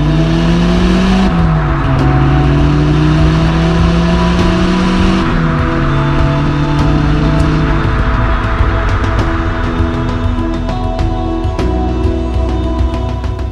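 A VW Polo 86C pickup with a G40 Turbo engine revs hard and steadily, its loud engine pitch rising and falling through several pulls, close by with no talking.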